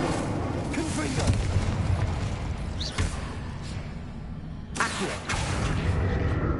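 Spell explosions from the Hogwarts Legacy video game, including a Confringo blast, sounding as a couple of sharp booming bursts over a steady game background.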